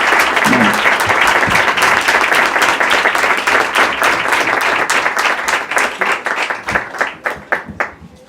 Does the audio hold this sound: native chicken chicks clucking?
no